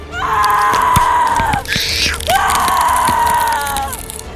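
People hiding scream in anguish as a door is smashed: two long, loud, wavering screams separated by a brief harsh burst, with scattered knocks and crashes underneath.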